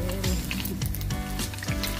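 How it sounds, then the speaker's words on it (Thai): Pork pieces sizzling and frying hard in a pan, loud crackling and spitting with a few stirring scrapes, close up and continuous, no voices. "เราเจียวหมูก่อนเจียวหมูให้มันออกก่อน"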